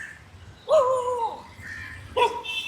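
Street dogs bark nearby in two sharp, loud bursts, one early and one near the end, with quiet outdoor background between.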